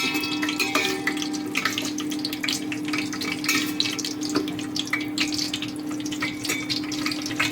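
Coriander, ginger, garlic and chili sizzle and crackle steadily in hot oil, a continuous close frying hiss with no talking.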